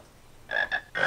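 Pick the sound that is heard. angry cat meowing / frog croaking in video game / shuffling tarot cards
frog croaking in video game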